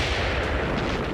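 A heavy, continuous booming roar of a destroyer's big naval guns firing during the Normandy landings, dense and loud, the blasts blurring together into one rumbling wall of sound.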